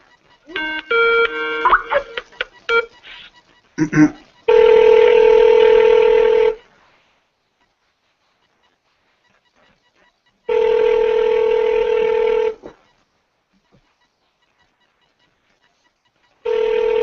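A telephone call is placed: a quick run of dialing tones, then long electronic ringback tones repeating with long silent gaps between them, loud and clear, with no voices.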